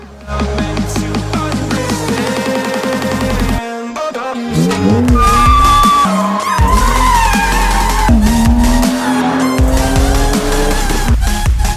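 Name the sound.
stock 2020 Toyota Supra Mark V running on a dyno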